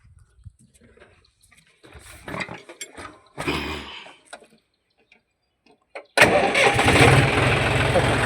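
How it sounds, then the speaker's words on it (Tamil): A car engine cranks and catches after a power steering repair, with scattered clicks and a voice before it, then a loud steady idle settling in for the final two seconds. "ஸ்டார்ட் பண்ணி உங்களுக்கு முன்னாடியே காட்டுறேன் பாருங்கள்"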